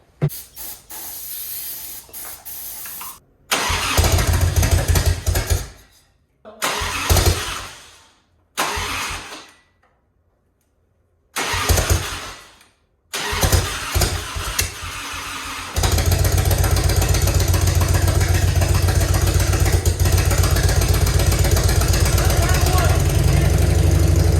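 A Harley-Davidson motorcycle engine leaking oil cranks in several short bursts with pauses between, then catches and settles into a loud, steady idle.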